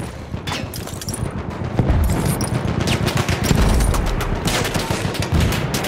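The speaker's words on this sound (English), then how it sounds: "There's an enemy machine gun." An enemy machine gun rattles in Battlefield 1 Conquest on the Amiens map on PS5, loud rapid bursts layered into a dense, nearly continuous fusillade with booming shots throughout.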